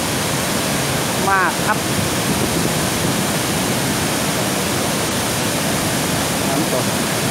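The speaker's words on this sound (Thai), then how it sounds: "นี่คือน้ำตก แก่งโสภาในวันนี้ครับ" Kaeng Sopha waterfall in flood pours in a heavy, constant roar filling the scene, with someone speaking briefly near the start.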